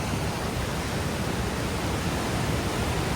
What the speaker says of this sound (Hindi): बालाकोट का ये दरिया है।